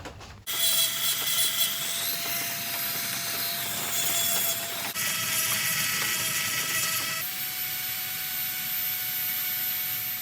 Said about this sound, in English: I'm using this real tiny little burr bit. It's like a little diamond bit